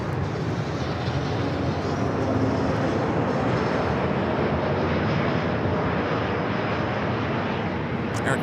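Air Canada Boeing 737 MAX 8 arriving on runway 24 right at Los Angeles International, its engines a steady, broad roar held at an even level throughout, with no talk over it.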